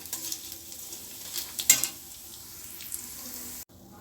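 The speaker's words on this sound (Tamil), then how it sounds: "எண்ணெயை வடிகட்டிட்டு நம்ம பருப்பெல்லாம் எடுத்துருவோம்" Hot oil is strained off fried lentils for a drumstick-leaf spice powder, giving a soft continuous sizzle with a brief metal scrape in the middle and a sudden drop near the end.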